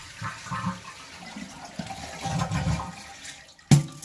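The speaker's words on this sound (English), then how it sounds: "And then flush to empty." A toilet flushes to drain its tank ahead of replacing a Fluidmaster 400A fill valve, with water rushing and swirling through the bowl for several seconds, then a sharp clunk near the end.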